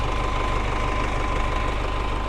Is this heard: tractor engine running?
yes